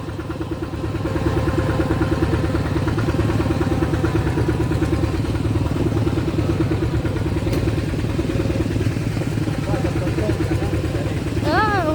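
A tractor engine running while it drives to the rice fields, a loud, close, steady chugging drone that continues unbroken after a brief quieter start, with a voice heard briefly near the end.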